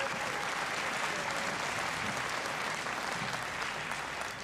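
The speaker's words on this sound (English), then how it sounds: "go ahead, clap for them," Distant, soft applause from the crowd at a school Christmas band and choir concert rolls on evenly throughout, a continuous patter of many hands.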